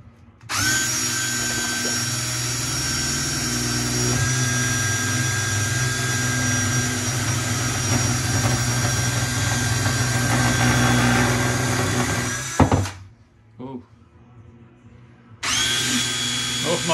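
A power drill driving a water pump whines steadily for about twelve seconds, cuts off abruptly, then starts up again after a short pause.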